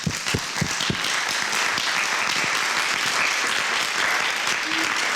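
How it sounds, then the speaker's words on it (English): Sustained applause from an audience at a program recognition ceremony, dense and steady throughout, with a few louder individual claps standing out near the start and faint voices underneath. "everyone owes Ashley Payne a round of applause"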